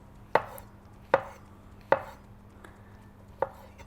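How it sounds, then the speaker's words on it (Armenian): Knife chopping mushrooms on a cutting board: five separate sharp knocks spaced about a second apart, close and clear over a quiet room hum, with no voices. "Մենք մեր սունգերը կտրատենք ու սկսենք տապակել։"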